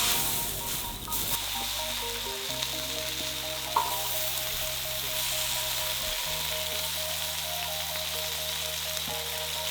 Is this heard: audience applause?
no